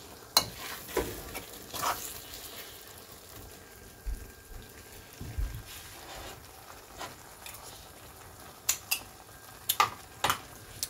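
Coconut cream being stirred into a thick rajma sauce, soft wet stirring with a faint bubbling background and several sharp spoon clicks against the pot.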